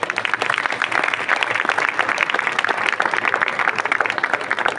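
Sustained applause from an audience greeting guests at an open-air evening event, the Notte Verde in Castiglione d'Otranto, a dense, steady wash of many hands clapping loudly throughout with no pause.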